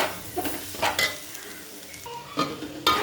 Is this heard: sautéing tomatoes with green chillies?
yes